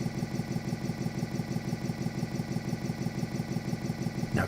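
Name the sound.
Harley-Davidson engine idling in neutral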